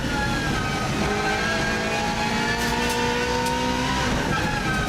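A race car on an Isle of Man TT lap, its engine revving hard and climbing through the upper gears in rising sweeps, loud and close from the cockpit, with no voices over it.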